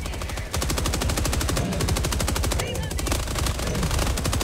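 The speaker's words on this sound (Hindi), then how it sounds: "मैंने हैवी मशीन गन मंगवाई हुई है, मैं पीछे से फायर कर रहा हूँ।" Heavy machine gun in Helldivers 2 firing in a steady, rapid, loud burst that runs almost unbroken through the whole stretch, with only a brief dip near the start.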